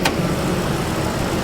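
A 2005 Ford F150 with the 5.4 3V engine idles steadily, a low, even rumble after a brief click at the start, close and loud with no voices.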